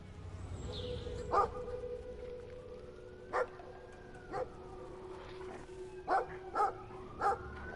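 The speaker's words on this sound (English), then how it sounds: "Dogs, man." Several dogs barking, with a sustained howl in the background, short sharp barks recurring in clusters at moderate distance.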